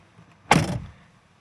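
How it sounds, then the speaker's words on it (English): Jeep Wrangler JL door swung and shut, one short solid thunk with a brief rattling tail, close and loud against near silence. "And then I'm going to open and close my door."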